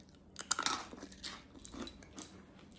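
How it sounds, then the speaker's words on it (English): Freeze-dried Skittles candy crunches close to the mouth in a few crisp, brittle bites that fade into softer chewing, all quiet and with no talking. "They literally just crunch and start to like melt in your mouth."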